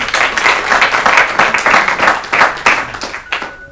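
Studio audience clapping for contestants on an Urdu literary quiz show, a dense burst of hand claps with brief voices mixed in, tapering off near the end.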